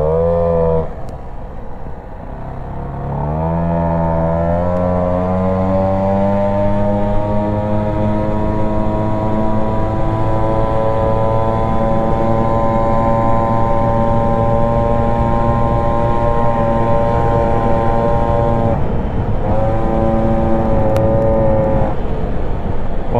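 A 50cc moped engine fitted with an Airsal 45 kit and a 17 carburettor idles and revs, its buzzing note climbing and then holding steady, loud and close, before dipping briefly near the end.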